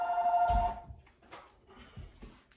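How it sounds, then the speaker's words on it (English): A telephone rings loudly and close by with a steady electronic tone that stops after about a second, followed by quieter, scattered background sounds. "Let me turn the phone off."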